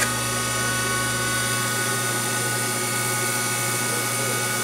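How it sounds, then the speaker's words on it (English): An olive wood pen turns on a lathe while it is sanded with 600 grit sandpaper. The motor gives a constant, loud, even whine and hum with a steady abrasive hiss, close and unbroken throughout. "Go to a 600 grit sandpaper."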